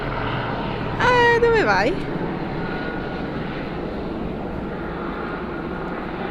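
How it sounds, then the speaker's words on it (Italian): A helicopter flying overhead sets a continuous low, rumbling engine drone beneath the whole scene, while a voice speaks briefly over it near the start. "Ah, ma c'è un elicottero."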